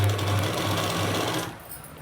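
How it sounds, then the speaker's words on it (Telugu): A sewing machine runs steadily while stitching a dress top, giving a loud, continuous motor whir with a rapid needle rhythm for about a second and a half, then cuts off and leaves a quiet room. "ఇప్పుడు ఇటుపైన కంపల్సరీ స్టిచ్ చేసుకోవాలి"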